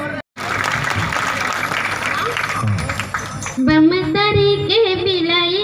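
A gathering applauds a young girl with a burst of crowd clapping lasting several seconds. The clapping then gives way to a clear solo voice singing.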